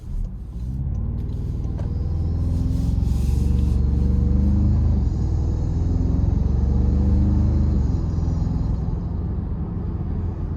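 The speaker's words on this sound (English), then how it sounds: "in that sport mode, it revs hot, it wants to get going" A 2026 Toyota Tacoma TrailHunter i-Force MAX in sport mode gives a deep, steady engine drone from inside the cab, rising slowly in pitch as it pulls, loud and continuous with no talking.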